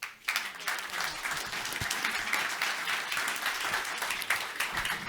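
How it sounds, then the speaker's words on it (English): A conference audience in Kosice claps after a session, a dense, even round of applause heard from within the hall, steady throughout and fairly soft in level. "I will ask the audience to give you a round of applause."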